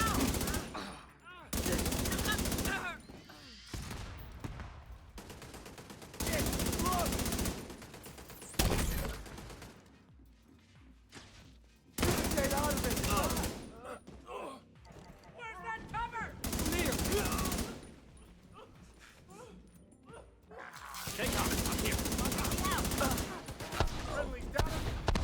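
A player's turret in a video game fires in long bursts of rapid automatic gunfire, loud and close, alternating with quieter gaps holding other game sounds over about twenty-five seconds.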